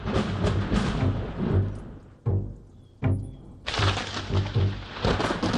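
A summer evening thunderstorm over Messines village: loud dense rain with deep rolling thunder, broken by two abrupt near-silent gaps before the downpour surges back.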